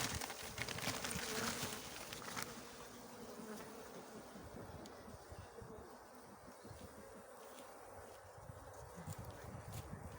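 Honey bees around Ukrainian beehives after winter make a faint, steady buzzing drone throughout, with occasional soft rustles and ticks nearby and no talk.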